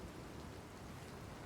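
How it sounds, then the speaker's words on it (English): Steady rain falls in the climbing video game Cairn, a dense, even hiss that fills the short stretch without pause and with no voices over it. "Oh, it's raining now."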